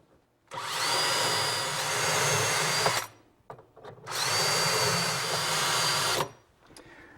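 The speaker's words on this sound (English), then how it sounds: "I simply turn the jig around, center it again, drill the first hole" A drill bores holes into a cabinet through a drilling jig in two loud, steady bursts, each about two and a half seconds, separated by a short pause with light handling clatter.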